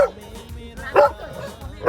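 A dog lets out short, bright barks and yips close by, with a sharp burst near the middle and another at the end over a low background hum.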